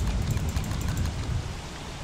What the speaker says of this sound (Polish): znowu pada deszcz